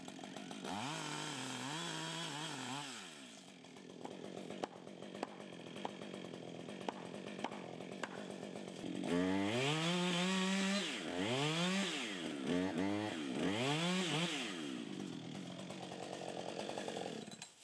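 A chainsaw cuts the undercut of a tree being felled, its engine revving up and down in repeated surges, loud and close, with brief idling stretches between cuts.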